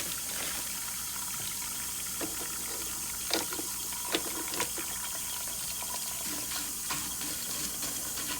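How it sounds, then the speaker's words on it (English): Water pours steadily into a deep pot of soy, a continuous broad rush with a few faint knocks and splashes, with no one speaking. "Now, as you're pouring the water in, just go ahead and stir it up"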